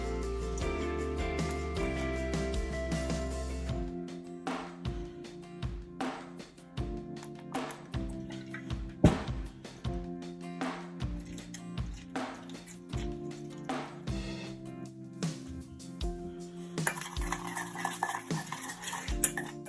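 A spoon works a spice paste of crushed garlic, extra virgin olive oil and lemon juice for lamb shawarma, stirring and scraping against a bowl in close, irregular clinks and taps, with no talking.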